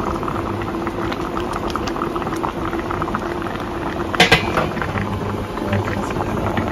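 Fish soup broth boils in a pot with a continuous dense bubbling rumble, close and steady, with a brief clink partway through and no voices.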